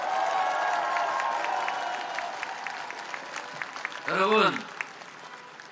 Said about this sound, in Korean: 격려의 의미로 박수 한번 보내주십시오